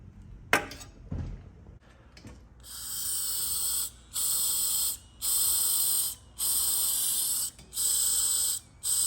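Air blown through the float and needle valve of a carburetor on a Harley-Davidson Knucklehead motorcycle, a steady hissing rush cut into five regular bursts with short silent gaps as the valve opens and closes, close and fairly loud, following a few clicks.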